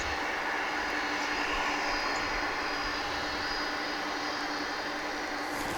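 A UPS cargo airplane sitting on a runway with its jet engines running, a steady loud broadband roar and hiss that holds even throughout, heard from fairly close.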